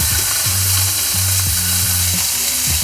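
Butter sizzles in a frying pan for chicken shish taouk, a loud, continuous frying hiss with a low rhythmic humming or rattling tone pulsing underneath, no voices.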